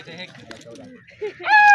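Pigeons kept by Punjabi pigeon fanciers coo softly in short, low calls close by, mixed with other faint bird sounds and a brief higher call at the end.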